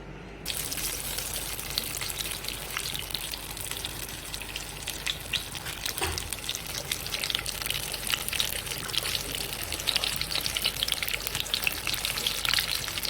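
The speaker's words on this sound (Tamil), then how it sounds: "மீன் எல்லாம் ஊறிடுச்சுங்க இப்போ வந்து நம்ம ஃப்ரை பண்ணிடலாம்" Marinated pomfret fish frying in a pan, a steady, dense sizzle and crackle that holds close and fairly loud for the whole stretch, with no talking.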